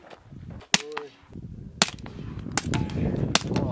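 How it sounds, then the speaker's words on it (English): Toy gun resembling an airsoft gun firing several sharp, snappy cracks at irregular intervals, fairly close, over outdoor rumble and faint movement noise. "Sounds like an airsoft gun."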